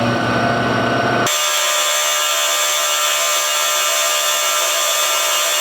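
A loud, steady drilling into steel with an end mill and WD-40 as coolant: a brief lower grinding rumble gives way to a dense, shrill, continuous cutting noise that holds for several seconds.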